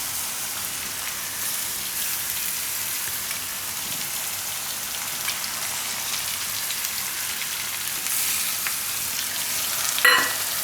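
Tomatoes with spices and coriander-cumin powder frying in a pan over lowered gas heat while cooking a Gujarati spinach and eggplant curry, a steady close sizzle with a brief louder burst near the end.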